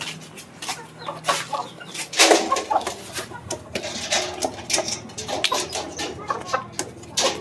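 Chickens cluck and squawk up close in quick bursts as they are fed grain, a busy farmyard clatter with a few scattered noises in between.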